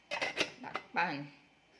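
A metal lid set onto a cooking pot of jackfruit simmering in coconut milk, a quick cluster of clanks and rattles, close and fairly loud, followed by a brief voice.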